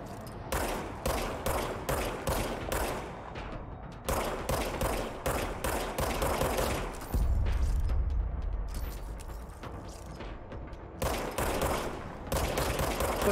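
Gunfire from the video game Control, loud rapid bursts of shots in a repeating rhythm with short gaps between them and a heavier rumbling blast near the middle.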